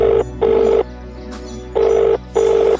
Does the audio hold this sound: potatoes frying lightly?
no